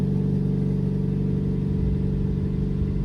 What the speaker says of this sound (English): That was a loud cold start though.